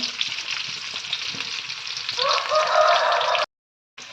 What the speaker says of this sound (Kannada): ಇವಾಗ ಈರುಳ್ಳಿ ಚೆನ್ನಾಗಿ ಫ್ರೈ ಆಗ್ತಾ ಇದೆ